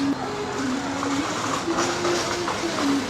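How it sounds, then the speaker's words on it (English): A train rumbles through Guangzhou South Railway Station with a steady low hum and faint clatter, joined by a sustained mechanical tone. "I'm currently at Guangzhou South Railway Station"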